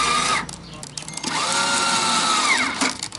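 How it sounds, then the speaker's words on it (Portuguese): Cordless power screwdriver fastening screws into a subwoofer box for a Gol G4 trunk build, its motor whirring in rising and falling bursts at close range, with short pauses between runs. "Minha parafusadeira tá acabando a bateria."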